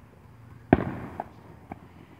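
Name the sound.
fireworks exploding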